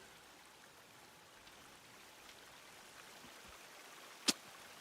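Steady broadband rushing of a waterfall nearby in the survival game Sons of the Forest, a constant even wash of falling water with one sharp click near the end.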